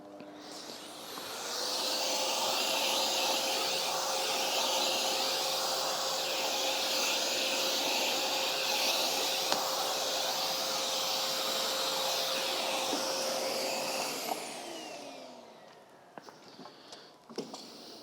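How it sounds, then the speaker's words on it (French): A vacuum cleaner running against the intake grille of a Cryo 6 unit, a loud steady whine and rushing hiss lasting about thirteen seconds before winding down, followed by a few light clicks and handling knocks. "il faut venir aspirer la grille d'aspiration"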